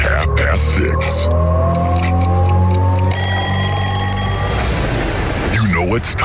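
Alarm clock effect in a radio station jingle, with rapid bright ringing and a rising tone playing loudly under a voice.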